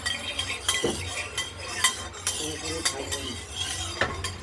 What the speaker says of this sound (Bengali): এটা একটু হালকা এপিট ওপিট করে নেবো